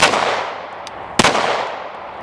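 A Canik TP9SF pistol fires at a shooting range: a sharp report at the start, a fainter pop, then another crisp shot, each trailing off in a short reverberant decay.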